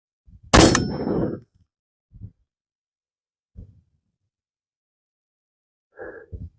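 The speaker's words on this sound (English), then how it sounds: "Hopefully we hit Gavin and not the plate behind it, but that was an impact" Rifle bullet from a 6.5 Grendel with a 20-inch match barrel striking a steel target plate at 1,776 yards: one loud sharp report, then a few faint distant knocks and thuds trailing after it.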